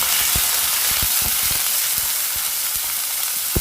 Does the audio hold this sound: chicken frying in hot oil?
yes